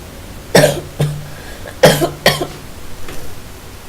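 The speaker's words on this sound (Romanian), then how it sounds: "Și eu tușesc ca dracu." A man with a cold coughs sharply at close range, giving several raspy bursts with short gaps between them, followed by softer throat-clearing sounds.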